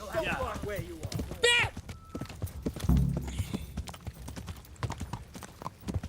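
Horse hooves clip-clop at a steady walking rhythm in the medieval game Kingdom Come: Deliverance, with someone talking over the hoofbeats throughout.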